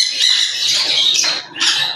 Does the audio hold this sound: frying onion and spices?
no